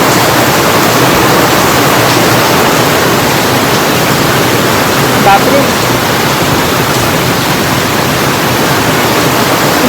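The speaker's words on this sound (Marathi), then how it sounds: "जोरात पाऊस आलाय बघू शकता" Heavy rain pours down in a steady, dense hiss that stays loud and unbroken throughout, with one brief exclamation from a voice.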